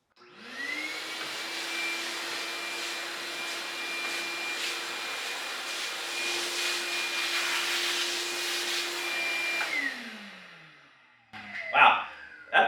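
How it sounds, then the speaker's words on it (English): A shop vac runs from a Bluetti Apex 300 power station, starting with a rising whine, holding a steady loud roaring hum for about nine seconds, then spinning down, followed by a few clattering knocks. "What about a shop vac to clean up the mess I just made?"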